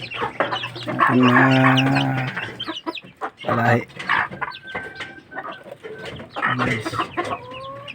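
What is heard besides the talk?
chickens clucking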